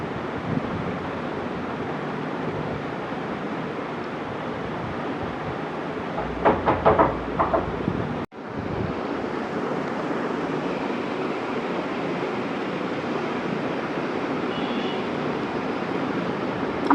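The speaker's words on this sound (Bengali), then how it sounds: "দেখতে পাচ্ছেন আমি খুব আস্তে আস্তে সেলাইটা দিচ্ছি।" A sewing machine runs slowly along a shirt collar, giving a steady, even mechanical whir with a brief cut-out near the middle before the stitching resumes.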